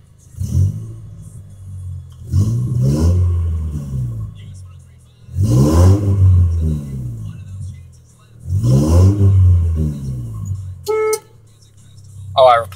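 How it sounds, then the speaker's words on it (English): A 1996 Geo Tracker engine revved four times in close succession, each rise swelling to a loud rumbling roar and falling back to idle, with a short horn toot near the end. "Let's rev it."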